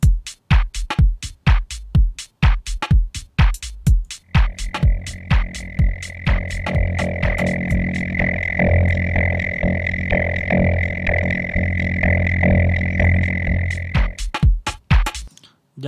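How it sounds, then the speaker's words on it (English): An unprocessed standard drum loop plays in Bitwig: sharp, regular kick and snare hits, with a brief stretch of sustained droning tone layered underneath in the middle before the bare beats return; loud and dry. "So this is some standard drums, sounds like this with no processing."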